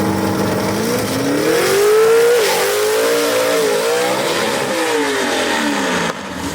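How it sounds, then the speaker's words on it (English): A gasser drag race car launches at a dragway with a loud, close engine roar. Its pitch climbs, then dips and wavers as the 1-2 gear shift is missed, before the revs carry on and fade slightly at the end. "Sounds like Lovelady might have missed that 1-2 shift right there"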